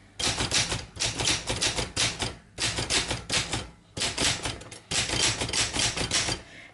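A 1971 Olympia SM8 manual typewriter being typed on, fast bursts of sharp, high-pitched key strikes in clusters with brief pauses between, close and clear with no voices.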